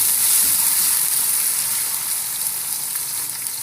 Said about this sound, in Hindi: वो ऐड करके इसे थोड़ा सा चला लेंगे ताकि हमारी प्याज सॉफ्ट हो जाए